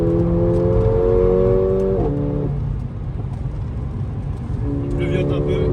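A Mercedes A45 AMG engine drones loudly from inside the car on the Nürburgring, its pitch climbing steadily, dropping sharply at a gear change, then rising again.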